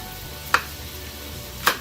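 A knife chops butter into smaller pieces on a board, giving two sharp, isolated knocks about a second apart against a quiet kitchen background.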